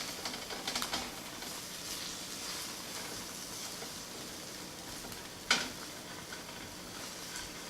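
An egg sizzles quietly in a frying pan as it is stirred a little for a croissant sandwich, with a steady soft crackle and one sharp clink of the utensil against the pan partway through.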